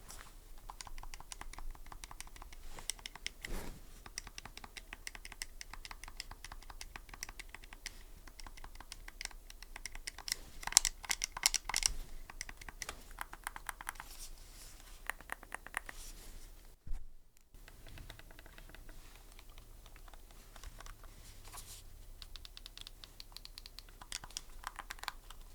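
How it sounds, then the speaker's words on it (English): Face buttons on an AYANEO Pocket EVO handheld pressed repeatedly, a steady stream of soft, quiet clicks and taps at close range, with a brief silent pause partway through. "Now, taking a look at the face buttons,"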